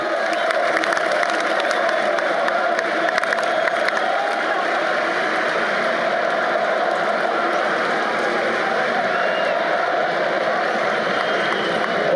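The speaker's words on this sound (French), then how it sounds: "ça a commencé à crier, à applaudir, tout." A large stadium crowd at Camp Nou in Barcelona shouts, cheers and applauds in a dense, continuous roar that holds steady and loud for the whole stretch, with scattered whoops rising out of the wash of noise.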